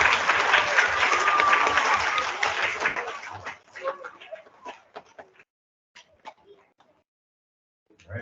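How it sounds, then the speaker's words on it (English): A first-grade school awards assembly audience bursts into loud, dense applause that fades after a few seconds into scattered, fading individual claps. "how about a big round of applause for Alexia?"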